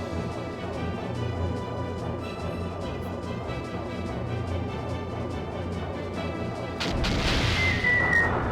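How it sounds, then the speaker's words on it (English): Torpedo attack striking an enemy in Skies of Arcadia: Legends, a dense rumbling barrage of repeated booms over game music, swelling into a louder crashing burst near the end. "Then I should hopefully be able to hit him with my torpedo on this turn as well."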